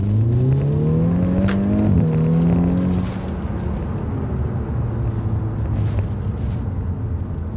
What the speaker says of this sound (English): We'll head back home and go for a little spin and see how the car sounds